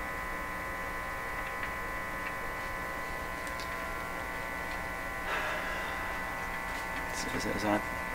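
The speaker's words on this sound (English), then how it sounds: "Is that what would cause this kind of hum?" A Viking EMU61 tube radio under repair gives off a steady electrical mains hum with a buzzy edge, constant and moderately quiet, with a few faint clicks and scrapes from the work near the end.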